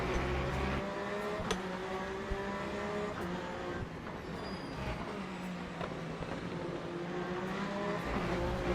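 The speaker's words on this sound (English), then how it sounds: "I do love the like little growl the Peugeot has off throttle." A Peugeot hypercar engine in Le Mans Ultimate growls off throttle, a steady low rumble with crackling overrun and a shifting engine note running throughout, heard up close and alone.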